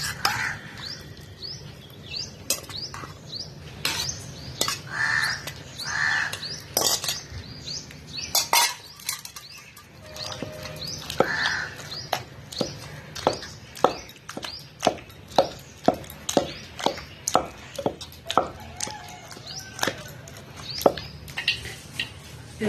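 Eggplant, tomato and tamarind chutney pounded in a stone mortar, a long series of sharp, knocking hits in an uneven rhythm that quickens toward the end, with faint bird chirps in the background.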